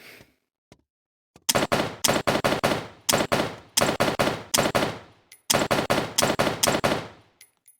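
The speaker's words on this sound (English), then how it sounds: "It's an AK-47." AK-47 firing in a video game: several loud, close bursts of rapid automatic shots with short pauses between volleys, after a couple of faint isolated clicks.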